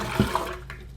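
Water is poured out of a measuring cup for a spicy pickled red onion brine, a brief close gush of liquid with a splashy onset that quickly fades to a soft trickle.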